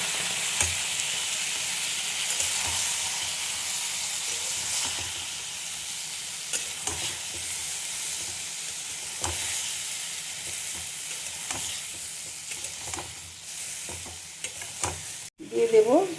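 Mixed vegetables sautéing in oil with salt, chilli powder, cumin, coriander and turmeric, a steady close sizzle with repeated stirring and scraping in the pan, no talk, and a brief louder clatter near the end.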